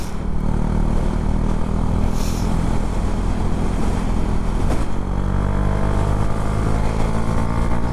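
A Husqvarna Svartpilen 401 motorcycle on the move, a steady loud engine drone with heavy wind and road rumble throughout, no speech.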